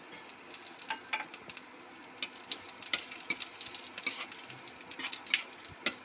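Whole spices, bay leaf, dried red chillies and cumin seeds crackling in hot oil for a Bengali tempering, a soft steady sizzle dotted with sharp little pops and ticks throughout, close by with no talk.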